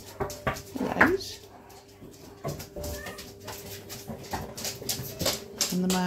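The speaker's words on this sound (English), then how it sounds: "the mad dog's still running about" A lively pet dog at home whimpers and gives small yelps among scattered thumps and movement, with a person's voice nearby.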